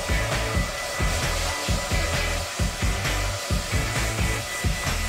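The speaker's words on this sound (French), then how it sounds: "Et maintenant, utilisons le sèche-cheveux." A hair dryer blows steadily and loudly at close range while drying hair, its motor whine and rushing air holding constant with a slight pulsing flutter throughout.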